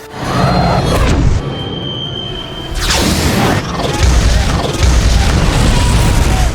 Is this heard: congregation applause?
no